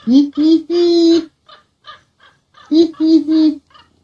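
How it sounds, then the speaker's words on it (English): A bird, probably a crow, gives loud, harsh caws in two close bursts of three, with fainter calls trailing between them outdoors on a trail. "It's a bird that is calling for help."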